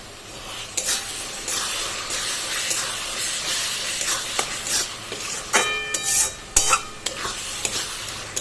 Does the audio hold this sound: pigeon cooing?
no